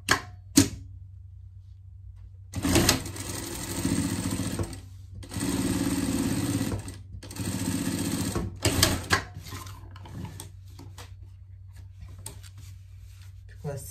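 Sewing machine stitching a seam on a denim pet vest, running in about three sustained bursts separated by pauses, with a few sharp clicks at the start; a voice talks over parts of it.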